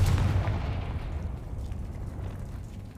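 A Confringo fire spell detonates in Hogwarts Legacy as a loud, close blast with a heavy low boom that rumbles away over a few seconds.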